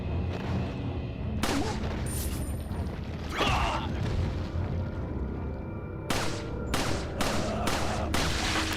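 Gunfire in Resident Evil 4, a steady rumbling bed of game noise broken by sharp broadband shots, a burst around the middle and a rapid run of five loud bangs near the end.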